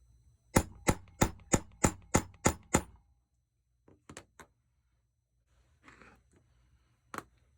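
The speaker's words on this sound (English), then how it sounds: "we're going to give this a couple of wraps with the hammer as well" A metal letter stamp is driven into metal with a hammer: eight sharp, evenly spaced strikes in quick succession, followed by a few fainter scattered taps and knocks in a quiet room.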